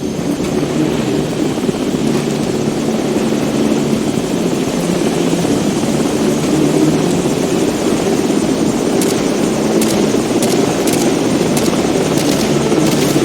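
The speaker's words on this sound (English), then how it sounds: "we've got enemy helos approaching from the northwest and southeast." Enemy helicopters approaching in the video game Call of Duty Modern Warfare 2, a loud steady rotor roar with engine drone that holds throughout and carries faint rhythmic high clicks toward the end.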